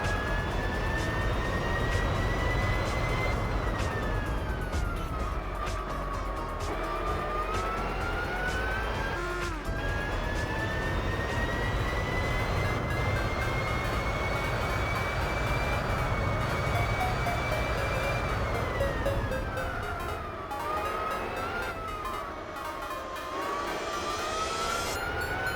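Race car engine in Gran Turismo 4 (Spec-II mod, medium slicks) roaring loudly and continuously, its pitch rising through the revs and dropping at each gear change, with no talk over it.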